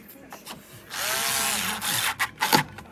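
A power driver tightens screws on a Dell XPS 2720 all-in-one PC, one close whirring burst of about a second followed by shorter spins and light clicks.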